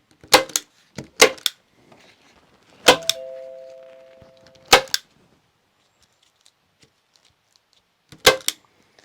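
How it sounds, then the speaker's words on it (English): A staple gun fires about nine sharp snaps in irregular bursts while fastening lily onto a DIY floating fish habitat for a pond. A brief electronic beep sounds midway, followed by quiet gaps. "Staple this down."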